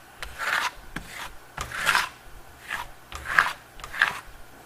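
A trowel rasps across a wall applying Stucco Metallo metallic lime Venetian plaster, five rhythmic scraping strokes with brief pauses between, close and clear with no talking.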